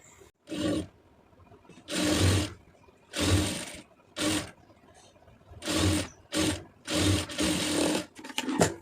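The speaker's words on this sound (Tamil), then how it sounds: "ஒரு தையல் போட்டுக்கிட்டே தைங்க" Sewing machine stitching the neck of a soft silk saree blouse, running in repeated bursts of about a second each, separated by short pauses, loud and close.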